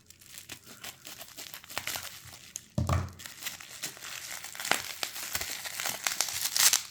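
Plastic packaging around a coin holder for a two-cent piece is cut open carefully, with close, quiet crinkling, tearing and rustling in irregular bursts and one sharper crackle partway through.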